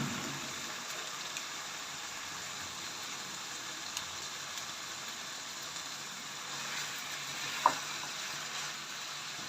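Chopped capsicum and minced keema fry in ghee, giving a continuous, even sizzle close by, with one sharp clink of a utensil late on.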